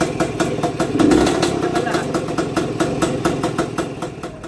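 Old restored motorcycle idling nearby, a steady low putter with regular rapid pulses running throughout while someone talks over it.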